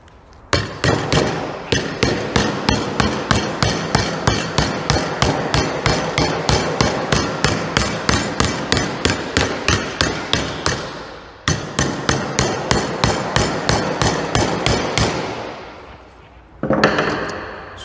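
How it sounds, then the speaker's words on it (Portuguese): A rounded-face hammer strikes curved metal in a fast, steady run of sharp, loud blows, pausing briefly partway through, then resuming before a short final burst after a gap. "eu posso usar esse martelo aqui com a face arredondada."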